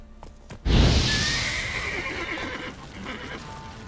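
A horse from The Witcher 3 neighs loudly up close in a sudden whinny that tails off over a few seconds, with faint hoof clip-clop and ambient game sounds underneath.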